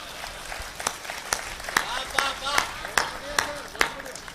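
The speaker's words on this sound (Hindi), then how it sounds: "व्यंग पर आपकी तालियां उठेंगी" An audience at a live Hindi comedy poetry show claps in a loose, rhythmic beat. The sharp, evenly spaced claps sound moderately close, and a voice speaks over them.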